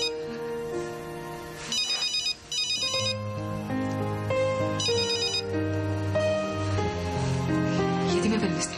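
A phone ringtone plays loudly and continuously, a melodic repeating tune with bright electronic tones, during a scene from a Greek television drama.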